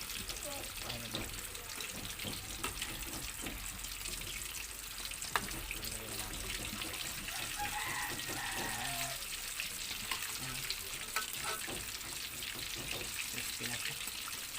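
Chicken fries in plenty of hot oil with a steady, soft hiss and crackle that runs throughout, heard from close by with faint background noise.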